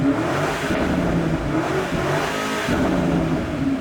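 A BMW G90 M5 engine rumbles and revs loudly through a throaty Akrapovič aftermarket exhaust, the note rising and falling in a few surges with no talking.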